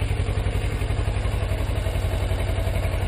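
A motorcycle engine idles with the clutch pulled in, a steady, close, low thumping putter with a fast even rhythm that holds for the whole stretch.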